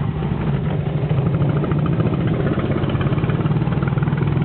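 A massive motorcycle engine runs steadily at close range, a loud low idle with a continuous throbbing pulse and no talking.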